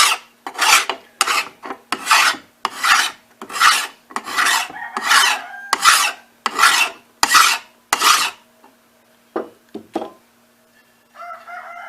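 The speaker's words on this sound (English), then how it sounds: "I'll take this file and I'll just kind of brush the back side up" Metal file rasped along the back of a hoe blade in a dozen or so regular, evenly spaced strokes, loud and close, then a few scattered scrapes and a pause.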